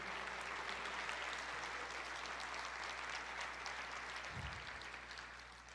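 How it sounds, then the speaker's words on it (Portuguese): A church congregation applauds steadily throughout, a dense continuous clapping over a low hum, easing slightly toward the end. "Você pode aplaudir o Senhor"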